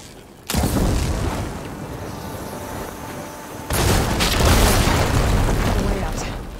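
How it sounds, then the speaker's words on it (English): In a video game, blaze barrels hit with fire ammo explode in two heavy booming bursts, each followed by a sustained roaring rumble, loud and close. "Hitting those blaze barrels with fire ammo should do the trick."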